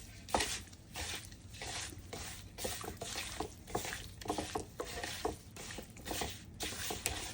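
Salmon bites being tossed with a tablespoon of seasoning, giving soft wet squishing and patting sounds in a quick uneven rhythm, faint and close.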